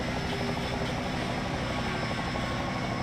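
A helicopter replay camera in a sim racing game at an Auto Club 400 stock car event gives off a constant, loud rotor and engine drone that stays steady throughout, with no talking.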